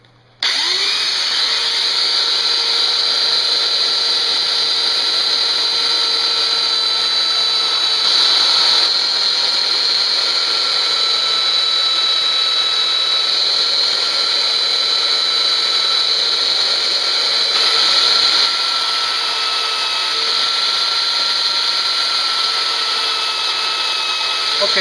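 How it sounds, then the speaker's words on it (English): A power sander shapes homemade wooden spiles for tapping trees, giving a steady, loud, high-pitched whine that runs almost unbroken, with slight swells in intensity along the way. "So even a sander like this,"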